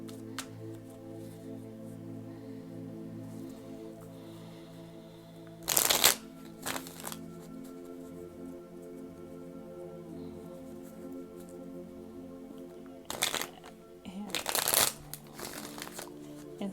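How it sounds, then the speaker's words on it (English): A goddess oracle card deck is shuffled in a few quick riffling bursts, separated by pauses over a low steady hum, close and crisp with no talking. "let's pull from my goddess deck and see where we go"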